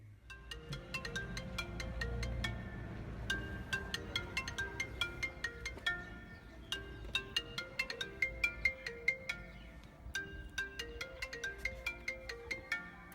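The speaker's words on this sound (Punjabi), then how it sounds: "ਫੋਨ ਕਿਵੇਂ ਆ ਗਿਆ ਅੱਜ" A melodic phone ringtone plays alone, bright chiming notes repeating in a steady pattern at moderate volume.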